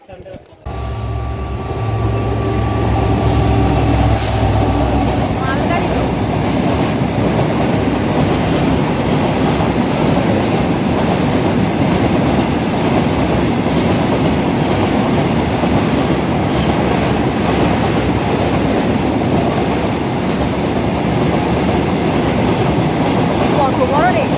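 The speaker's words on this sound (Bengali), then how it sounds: "এই যে আমাদের ট্রেন চলে এসেছে, দেখ 12-16-26 ট্রেনটার নাম।" Express train 12626 pulls into a station with a loud, continuous rumble and rattling wheels, faint squeals riding over it, and the roar holds steady for the whole stretch.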